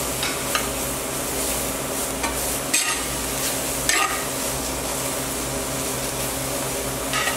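Colorful stir fry sizzling steadily in a pan while being stirred, a continuous loud frying hiss with occasional scraping strokes of the utensil, close up and without talk.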